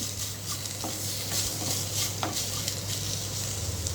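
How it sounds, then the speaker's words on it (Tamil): Coriander leaves sautéing lightly in a pan for coriander-mint chutney, a soft continuous sizzle with occasional stirring scrapes and utensil clinks, steady and close with a low hum underneath. "கொஞ்சம் லைட்டாக வதக்கினா போதும்"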